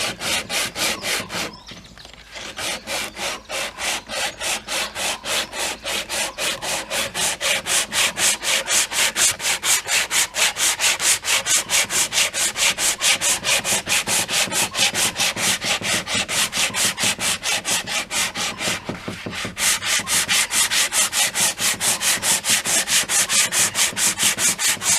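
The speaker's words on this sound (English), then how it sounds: "once it was dry I started sanding the neck down as a final shaping" Steady, rhythmic back-and-forth sanding of a guitar neck coated in epoxy resin as grain filler, with dense, even rasping strokes throughout and one brief pause near the start.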